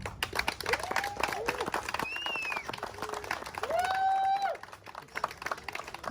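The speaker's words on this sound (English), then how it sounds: "Hand of applause." Crowd applause at a truckers protest in Washington DC: a dense, continuous patter of clapping and crowd noise runs the full length, with rising and falling whistle-like tones sounding over it.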